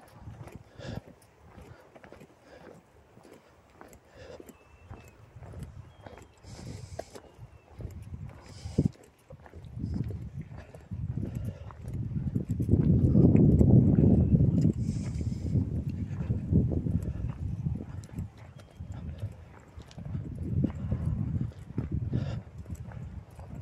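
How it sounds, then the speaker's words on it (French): Horses walking past on a countryside trail on a plateau near Malzéville in August, soft hoof falls and shuffling that build as they draw near, then fade, outdoors with light wind. "Les chevaux m'ont passé."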